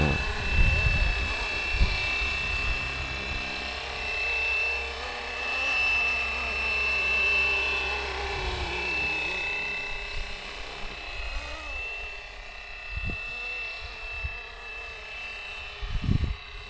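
A Fly-Wing Bell 206 radio-controlled model helicopter flies nearby, giving off a steady high-pitched motor whine and rotor hum that rises and falls slightly, with wind noise and a few bumps.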